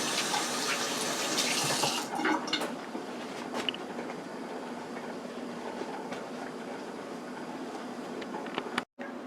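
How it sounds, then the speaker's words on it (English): A kitchen tap runs steadily into a sink while hands are washed, a loud continuous water hiss with small splashes, ending abruptly as the flow stops. "let me wash my hands"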